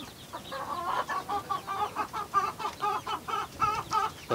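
Young chickens, grown chicks kept near a coop, cluck in a steady series of short repeated calls at close range, moderately loud with no talk over them.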